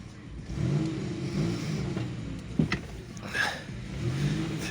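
Car engine revving at idle and above while a stiff power steering rack is tested after fresh fluid; the engine swells and falls in several rev surges with a brief clunk partway through, close and fairly loud.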